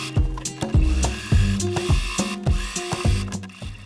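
A sewing machine stitching in the ditch along the seams of a quilt, a steady, close rhythmic chatter of quick needle strokes that runs without pause.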